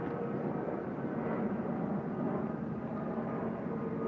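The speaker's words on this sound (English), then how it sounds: "We got the airplanes." An airplane drones overhead outdoors, a steady broad rumbling roar that holds at a constant moderate level throughout with no voices.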